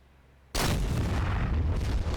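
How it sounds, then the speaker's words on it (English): Artillery shells landing downrange in the combat simulator DCS World, a sudden heavy boom after near silence that rolls on as a sustained, loud, low rumble to the end. "there should be some more shells coming downrange, I think"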